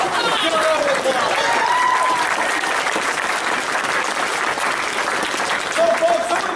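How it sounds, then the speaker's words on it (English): Steady applause from a convention crowd at a comedy show, continuous clapping filling the whole stretch at a fairly loud, even level, with a few brief whistles on top. "Give a round of applause."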